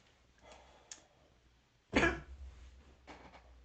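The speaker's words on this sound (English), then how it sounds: "It does make me cough." A single sharp cough stands out clearly, preceded and followed by faint breathy sounds in an otherwise quiet space.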